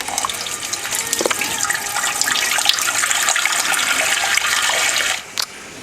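Water rushes loudly and steadily into a saltwater tank as it is topped up, a close, hissing splash that cuts off near the end.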